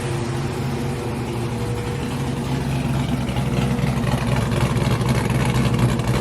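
A cammed, LS-swapped G-body car with full exhaust rumbles steadily nearby, its lopey engine note holding a loud, continuous throb without talk.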